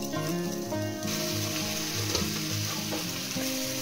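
Ginger garlic paste frying in a pan over a very low gas flame, a steady close sizzle with light stirring, heard alone throughout.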